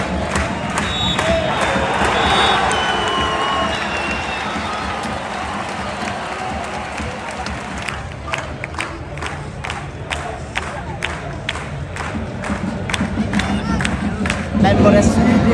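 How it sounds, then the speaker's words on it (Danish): A football crowd cheers in Viborg FF's Danish Superliga stadium late in a 1-0 match. A loud, dense roar of voices swells and then settles into rhythmic clapping and chanting, with nearby people talking under it. "Man må da sige, at vi får jublet her i Viborg."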